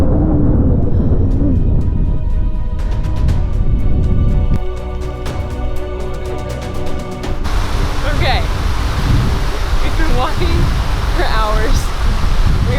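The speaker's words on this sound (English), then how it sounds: "We have to cross this river." A river rushes near a backcountry hiking hut, a loud broad wash of flowing water that stays steady throughout, with some tonal game-like or music sounds layered over the first half.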